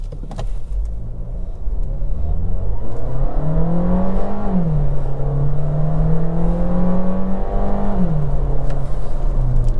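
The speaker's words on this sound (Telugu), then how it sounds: "సో ఇక్కడ కూడా సేమ్ మన స్పోర్ట్స్ మోడ్లో ఒకసారి మళ్ళీ ఒకసారి పవర్ అనేది చూద్దాము" A 2024 Skoda Slavia 1.5 DSG sedan accelerates hard in sports mode, its engine note climbing steadily and dropping at two clear automatic gear shifts, loud and close from inside the cabin.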